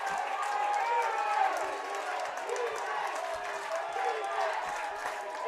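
The home crowd at a varsity high school football game cheers and shouts from the stands, a steady mass of voices with bursts of clapping and yelling, fairly distant.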